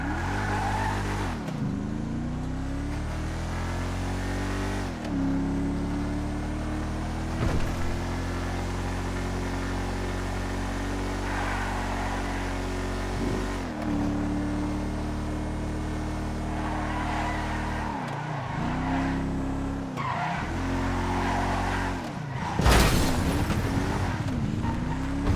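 A car in a video game with poor braking and turning, its engine droning loudly and continuously with repeated revs and pitch swoops, plus a sharp skid or crash burst near the end.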